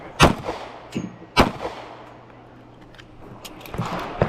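Compact handguns, a Glock 26 and a P365XL, fired at targets on an outdoor shooting stage: sharp, loud cracks in quick pairs, then a pause before more shots near the end.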